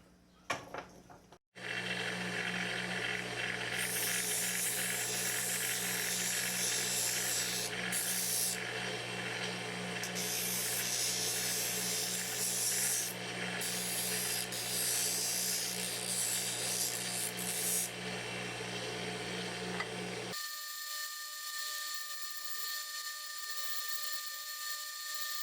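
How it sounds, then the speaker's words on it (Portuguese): Wooden pieces for a small birdhouse being sanded, a steady close abrasive rubbing and hissing that runs without a break for about twenty seconds, then cuts off abruptly and leaves a faint electrical hum. "Agora eu vou lixar elas."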